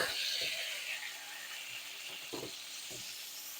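A steak sizzles in a pan, a steady hissing that fills the background, loud at first and then easing, with a few soft knocks and thumps nearby.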